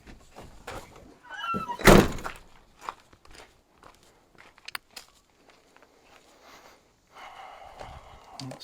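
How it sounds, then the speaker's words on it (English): A car door slams shut with one loud thud at close range, followed by scattered small clicks and taps in a quiet interior. "we'll close the door right quick"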